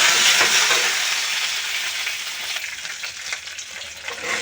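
Urad dal, mustard seeds and curry leaves sizzle and crackle in hot oil with a loud, steady hiss, and the stirring makes short spattering bursts.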